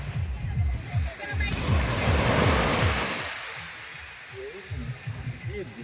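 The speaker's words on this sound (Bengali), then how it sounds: "শান্ত নীরব সমুদ্র, মাঝে মাঝে ঢেউ আসছে একটা দুটো" Calm sea waves washing onto a sandy beach at Dublagadi, a soft surge that rises and recedes once under a faint breeze, with a voice speaking nearby.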